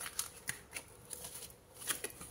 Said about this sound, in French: Je vais prendre trois cartes avec le tarot.